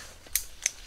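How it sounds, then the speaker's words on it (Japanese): Scissors make two quick, crisp snips a moment apart, close by, as strawberry runners are cut from the parent plant of a Tochiotome plant, otherwise near-quiet. "こんな感じでパパパと切ってきます"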